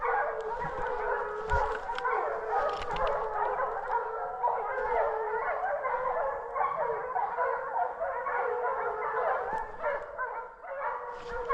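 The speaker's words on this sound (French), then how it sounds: "Un sanglier est chassé par les chiens." A pack of hunting dogs bays, yips and howls continuously during a driven wild boar hunt, an excited chorus of overlapping barks at moderate distance across a dry, hot early-season woodland.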